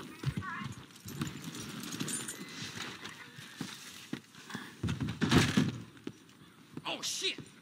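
Horse hooves clip-clop on the ground in Red Dead Redemption 2, a loose run of uneven thuds near and moderately loud, with a brief whinny and ambient game sounds around them.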